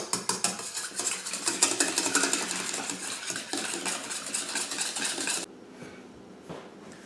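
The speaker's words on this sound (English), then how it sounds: "now mix your wet ingredients together" Wet ingredients for empanada dough being mixed in a bowl, with steady rapid clinking and scraping of a utensil against the dish for about five seconds before stopping abruptly and going quiet.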